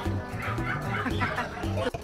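Dogs barking at a cat and dog shelter area at a grotto, a few yips and barks close by over a busy, continuous background with some voices.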